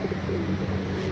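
Pigeons cooing in a pigeon park in the Maldives, soft low coos repeating close by over light ambient murmur.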